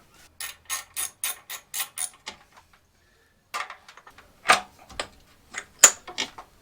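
Rapid bursts of close ratchet clicks loosen the muffler bolts on a Harley-Davidson Softail Sport Glide, with a quick even run of clicks, a pause, then shorter irregular spurts of clicking, with no talk.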